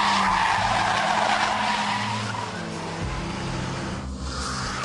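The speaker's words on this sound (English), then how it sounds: "So that's the handbrake turn" Loud, sustained tire squeal as a car skids through a handbrake-turn drift, the screech holding for several seconds close up with engine noise beneath it.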